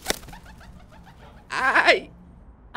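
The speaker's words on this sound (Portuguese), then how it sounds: "Pombo?" A pigeon coos several times from inside a trash bin, close and clear, its soft repeated calls building into a louder burst before fading.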